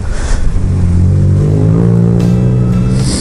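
A loud Kawasaki Versys 1000 motorcycle engine drones close by, its pitch climbing steadily as it accelerates, with rushing wind noise throughout.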